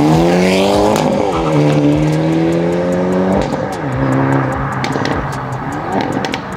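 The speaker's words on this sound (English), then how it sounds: "I'm gonna launch it again from the outside." A 2022+ Hyundai Elantra N revs hard and launches from a standstill, heard from outside, engine climbing through several quick gear changes, loud and close, with some tire noise at the start.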